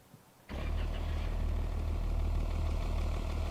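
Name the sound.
vehicle engine starting in Offroad Mechanic Simulator video game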